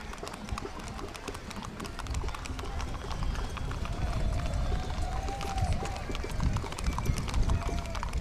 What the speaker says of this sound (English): Another spirited horse.